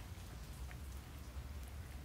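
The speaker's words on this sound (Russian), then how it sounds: "Хоть дождик пошел" Light rain starting to fall during 40-degree heat, a soft steady patter of drops close by, faint and unbroken for a couple of seconds.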